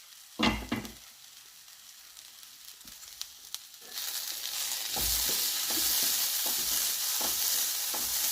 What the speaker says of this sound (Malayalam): ഇനി ഇതെല്ലാം കൂടി നന്നായിട്ട് ഇളക്കിയെടുത്തതിന് ശേഷം അടച്ചു വെച്ച് വേവിച്ചെടുക്കാം